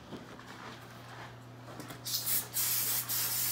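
An aerosol coating is sprayed onto a RedCat Gen 8 International Scout II RC crawler after a quiet moment, with two or three short close hissing bursts in the last second and a half.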